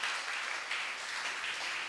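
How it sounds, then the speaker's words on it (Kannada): Congregation applause at a Kannada church sermon in Mangalore, a steady, dense wash of many hands clapping that holds evenly for two seconds with no voices. "ಚಪ್ಪಾಳೆ ಬರಲಿ."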